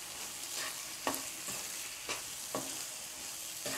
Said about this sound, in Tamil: கொத்தமல்லி போட்டு ஒரு கிளறி விட்டுருங்கம்மா